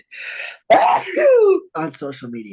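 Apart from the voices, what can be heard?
sneeze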